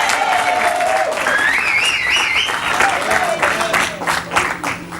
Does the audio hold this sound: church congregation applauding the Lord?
yes